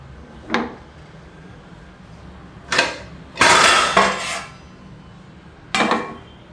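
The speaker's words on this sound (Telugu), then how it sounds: "ఇప్పుడు మూత పెట్టేద్దాం." A lid set onto a pot of tomato cabbage masala curry in a home kitchen gives several separate metallic clanks and clatters, with a cluster in the middle and a single sharp knock near the end, close and fairly loud with no talking.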